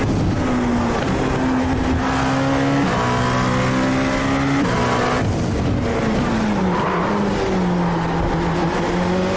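Dallara P217 prototype race car in the iRacing sim at Laguna Seca, a loud, continuous engine whine rising and falling through gear changes and braking for corners, close and dominant throughout.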